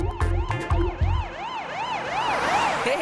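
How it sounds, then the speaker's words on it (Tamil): A cartoon ambulance siren wails in a steady rising and falling sweep. It starts under a few heavy low thumps and then carries on alone, loud and close. "கரெக்டா ஆம்புலன்ஸ் வந்துடுச்சு"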